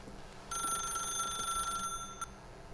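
A telephone rings in The Stanley Parable: a bright electronic bell tone with steady harmonics that starts sharply, holds for over a second, then cuts off, followed by one short final ring, loud and close over a quiet background.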